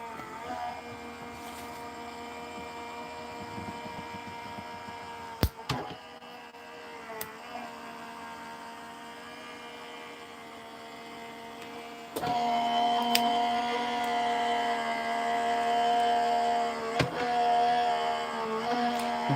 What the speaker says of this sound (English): we're just going to put those right through the die cut machine